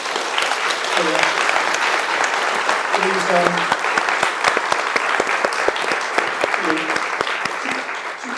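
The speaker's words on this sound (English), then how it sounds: "can we just get a big round of applause, please?" Audience clapping for two speakers at an education talk event, sustained loud applause with sharp individual claps standing out, and voices speaking faintly underneath.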